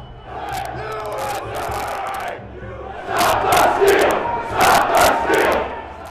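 Large crowd of rioters at the US Capitol shouting and yelling, a dense roar of many voices with sharp whistles and cries that swells louder in waves, close and continuous.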